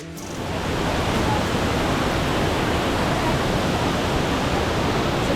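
Steady, loud roar of a natural waterfall at the end of a short hill walk, a dense unbroken rush of falling water close by that swells slightly in the first second and then holds constant throughout.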